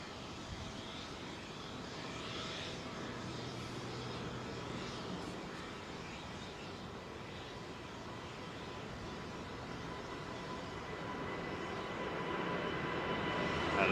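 Departing airliner climbing overhead from runway 09R at London Heathrow, a steady broadband jet roar that holds throughout and swells slightly toward the end, with no talking.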